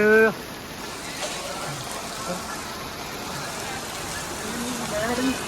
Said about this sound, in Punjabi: ਐਣ ਪੈ ਗਈ ਬਿਨਾ ਮੌਸਮ ਦੀ ਬਰਸਾਤ